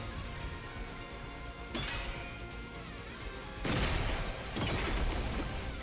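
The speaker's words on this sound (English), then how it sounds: "Hit Veshness with the Shion bomb." Crashing blasts and rumbling bursts from a bomb attack in The Hundred Line -Last Defense Academy- swell in two heavy waves over a steady game background, with no talk.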